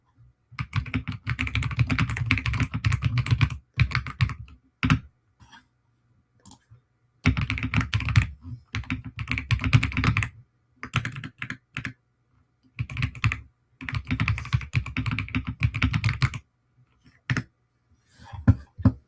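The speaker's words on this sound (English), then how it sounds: "Yes, I'm just typing." Rapid typing on a computer keyboard, close and clear, coming in bursts of quick clicks separated by short pauses.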